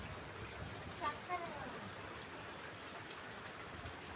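Rain falls steadily as a soft, even hiss throughout, fairly quiet and unbroken, with faint voices in the background.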